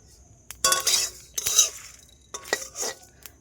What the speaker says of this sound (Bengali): এইবার এই মশলাগুলো আমি খালি খোলায় খালি কড়াইতে ভেজে নেব